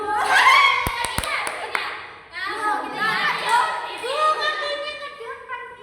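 Children in a classroom do the tepuk cinta clapping game, a few sharp hand claps in a quick cluster mixed with chanting young voices and an adult speaking.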